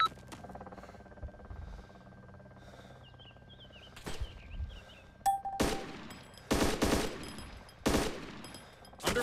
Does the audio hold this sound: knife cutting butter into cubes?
no